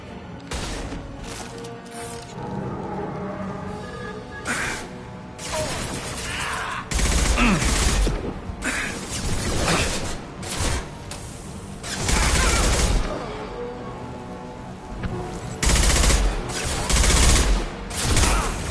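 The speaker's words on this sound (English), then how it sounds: "Taking heavy fire!" Heavy automatic gunfire from the video game Mass Effect 2 roars in repeated loud bursts and volleys, with booming impacts and mechanical clatter and brief quieter gaps between the barrages.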